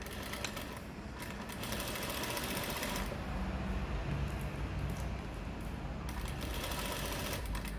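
A sewing machine runs continuously, stitching dress fabric up close with a steady whirring hum for about eight seconds and slight changes in speed, with no voices.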